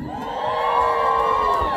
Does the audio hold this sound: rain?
no